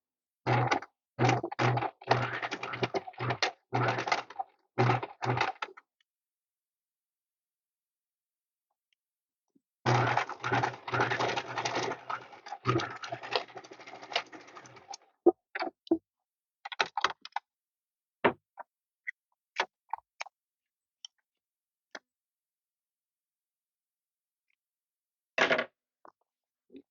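A sewing machine stitches a coil zipper onto a fabric packing cube in two long bursts of rapid, steady mechanical chatter, separated by a pause, then sparse clicks and a final short run near the end.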